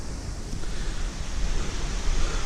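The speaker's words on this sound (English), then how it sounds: "There's the creek down there." Water in a barely running creek near Madison Falls, heard as a steady broadband rushing with a low rumble, continuous and fairly distant, with no voices.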